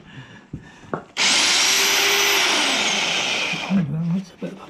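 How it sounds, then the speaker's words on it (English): An electric drill whines loudly for about two and a half seconds, drilling holes in metal out to 14 mm on a David Brown 996 tractor, its pitch sagging under load, with a few scrapes and knocks before and after. "Drilling them out to 14 mil and then tapping them"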